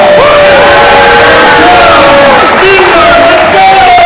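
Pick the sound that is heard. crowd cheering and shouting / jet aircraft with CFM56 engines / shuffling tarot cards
crowd cheering and shouting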